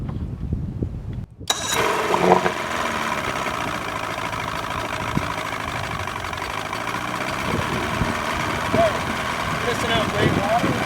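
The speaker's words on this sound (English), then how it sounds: "I'm going to start up the engine, and we're just going to take a look and see how it sounds with the cover off." A boat engine with its cover off starts up after a short quiet stretch, then idles with a steady, close mechanical clatter and hum.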